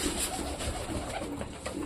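Two pet pigeons coo softly and repeatedly at close range while busily moving about, a low, steady murmur with no talk.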